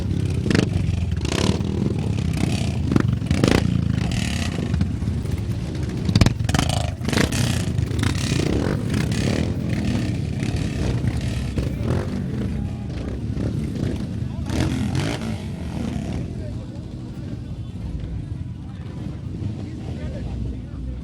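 Dirt track motorcycles at a RiderMania 2019 competition rumble together at the gate and start a race, a continuous loud engine roar with wind buffeting and clatter, while a commentator talks over it throughout.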